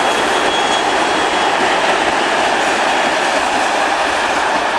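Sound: tourist steam train passing

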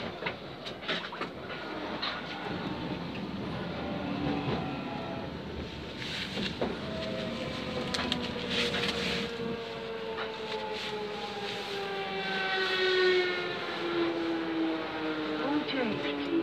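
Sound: 1996 tube stock Jubilee line train running

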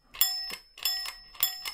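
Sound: old stable bell rung by bell pull

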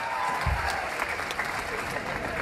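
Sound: crowd clapping at election rally

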